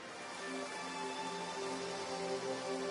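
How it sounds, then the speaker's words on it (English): Steady rain falls in the Darkside Detective video game during a scene set in Ireland, a dense, even patter that holds at a constant level throughout with no voices over it. "Because of course it's raining in Ireland."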